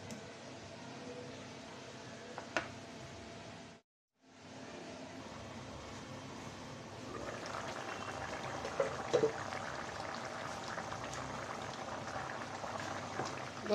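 A pot of potato curry broth simmers with a soft continuous bubbling hiss, briefly cutting out, then turning louder and busier with scattered pops, no talking.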